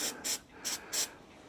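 Four short hissing bursts of cutting fluid sprayed from an aerosol can onto drill bits, close by, with brief pauses between them and no talking.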